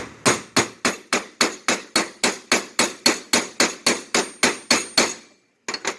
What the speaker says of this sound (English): get your hammer, and hit on the threads a little bit.